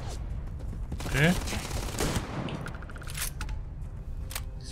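Shotgun blasts in the video game Starfield, a couple of loud reports in close succession with mechanical clicks and gear sounds after them, under a voice talking.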